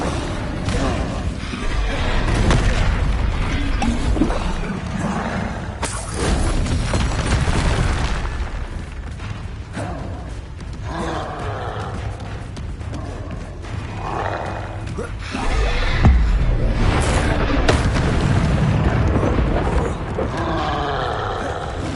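Confringo fire spells blast repeatedly in Hogwarts Legacy, deep booming explosions and roaring bursts recurring through the fight with occasional voices.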